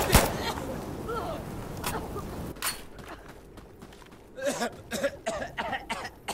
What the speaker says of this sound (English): Everyone's doing their own little cough